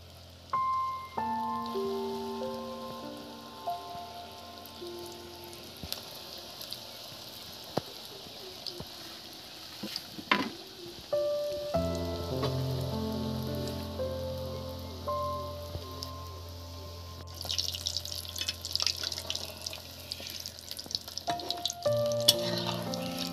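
Potato snacks frying in hot oil, a soft continuous sizzle that swells louder partway through, heard under background music with no talk.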